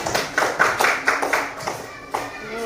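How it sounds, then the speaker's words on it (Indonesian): Classroom applause for a student group during a lesson on ASEAN countries: a short burst of hand claps from a small group, fairly close, uneven and fading over a couple of seconds. "Tepuk tangan untuk kelompok visual"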